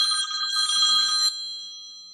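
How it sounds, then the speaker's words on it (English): A telephone ringtone trills loudly with a bright, bell-like warble for about a second, then cuts off abruptly and leaves a quiet fading tail. "why did that ringtone sound?"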